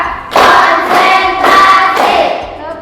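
A class of schoolchildren clap their hands together in rhythm, several loud bursts of group clapping in quick succession, close and lively, with no talking.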